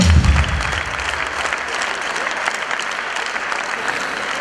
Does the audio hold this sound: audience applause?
yes